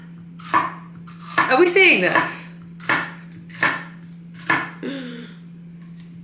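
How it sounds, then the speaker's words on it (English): Knife chopping a pepper on a cutting board in a home kitchen: a handful of sharp, separate chops spaced about a second apart, close and clear, with a person talking briefly between them. "chop up this pepper"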